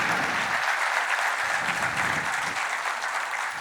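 A hall audience at a company event in Nashik gives sustained applause, dense and steady clapping filling the room from start to finish with no voices standing out.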